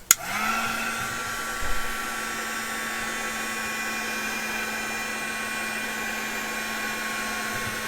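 Heat embossing tool blowing steadily onto embossing powder on a junk journal page, a loud continuous whirring hiss with a fixed hum that starts abruptly and runs unbroken without any talk.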